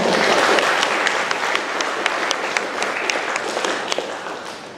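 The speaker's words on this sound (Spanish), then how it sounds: "Un fuerte aplauso para él, por favor." Loud, dense applause from an audience welcoming a radiologist specialising in MRI, steady clapping throughout with a few sharper claps standing out.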